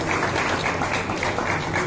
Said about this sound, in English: Round of applause for Guadalupe Valencia.